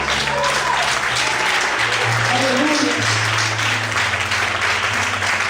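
A church congregation applauds loudly and steadily for several seconds during a sermon, with voices and sustained musical tones underneath.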